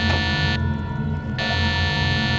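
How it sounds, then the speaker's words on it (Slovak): An electronic alarm-type tone, steady and buzzing with strong harmonics, sounds loud and close, with a brief dip in its upper ring partway through. "Čo je za pípanie?"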